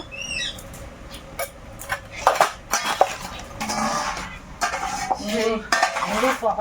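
Fish coated with salt and turmeric is tossed in a pan, with repeated scraping, clinking and stirring sounds of utensils against metal, some sharp knocks among them.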